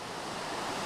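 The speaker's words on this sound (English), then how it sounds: "Well, we finally found a way to get down here. And it's a nice little falls." A small waterfall in Jefferson National Forest gives a steady, broad rushing hiss of falling water, moderately quiet and continuous throughout the brief moment with no voices.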